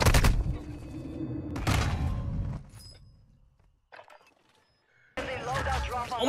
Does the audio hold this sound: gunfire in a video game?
yes